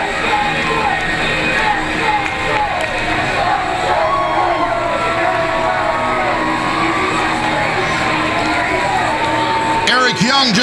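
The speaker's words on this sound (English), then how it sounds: "Eric Young just receiving the adulation of this crowd here in Brooklyn" A wrestling crowd in Brooklyn roars and cheers without a break, loud and dense with shouts and whoops throughout, while a commentator talks over the noise.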